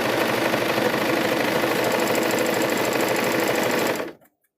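A serger sews darts on a fabric microwave bowl koozie, giving a loud, close, continuous rapid mechanical chatter for about four seconds before stopping abruptly.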